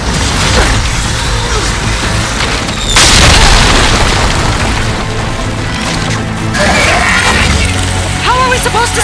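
Heavy explosions from an attacking enemy machine in Horizon Forbidden West: loud, sustained booms and crashes, one big blast about a third of the way in, with voices mixed in.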